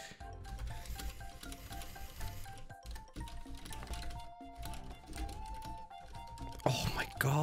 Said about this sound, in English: typing test